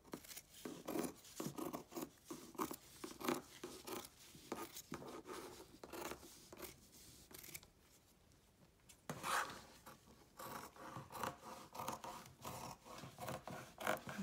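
Scissors cut through a piece of fabric for a sewn gardening apron, giving a run of close, rhythmic snipping and rasping strokes with a brief pause midway before the cutting resumes.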